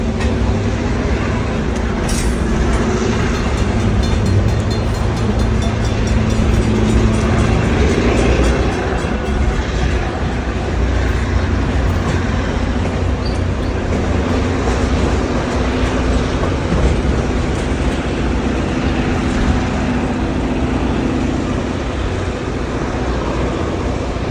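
An open-air train with open windows on both sides rolls along with a continuous, loud, roaring rumble of wheels and rushing air that stays steady throughout.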